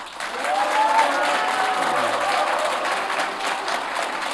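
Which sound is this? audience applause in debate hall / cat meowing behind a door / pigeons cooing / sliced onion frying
audience applause in debate hall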